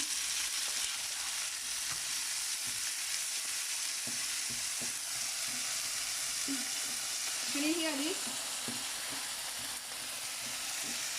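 A steady, dense sizzle of chopped tomatoes frying in a hot pan for chilli paneer, continuous throughout, with a brief spoken question partway through.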